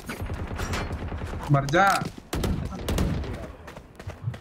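Bursts of rapid gunfire ring out in a first-person shooter game, with quick repeated shots and a brief weapon-handling sound, while a player speaks over the shooting.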